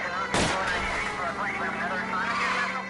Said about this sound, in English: I'll try to shoot out his tires.